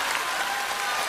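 A live audience at a Deyunshe crosstalk comedy show applauds, a dense, even wash of clapping filling the hall for about a second.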